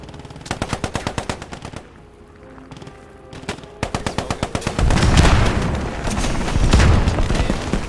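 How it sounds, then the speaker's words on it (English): Gunfire in the WW2 video game Post Scriptum: rapid bursts of nearby machine-gun fire in regular rattling strings, a short lull, then heavy rolling fire with deep booms, loud and continuous. "There's shots coming on the east there, east."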